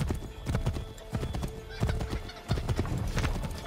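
A horse gallops in the game Assassin's Creed 3, its hooves clopping in a fast, steady rhythm up close, with a brief whinny among the strides.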